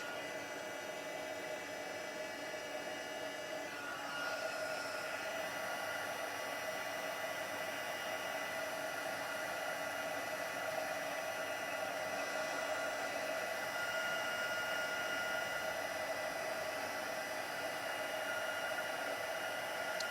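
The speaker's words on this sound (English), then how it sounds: "So once your heat tool's heated up, it really doesn't take long to melt that powder." Heat tool blowing steadily to melt powder, a constant airy whoosh that runs the full twenty seconds without a break, fairly faint.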